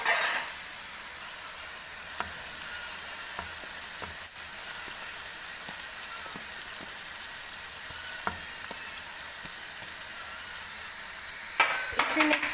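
Cabbage sizzling in a hot pan for a chicken and vegetable macaroni dish, a steady close frying hiss with occasional clicks of stirring and a louder clatter near the end.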